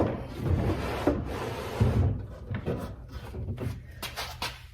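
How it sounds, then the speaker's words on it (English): A wooden dresser drawer slides back into its frame during repair work, a close, continuous woody scraping and rubbing with a few soft knocks as it settles in. "now when we put the drawer back in, it should sit nice and flush with the frame."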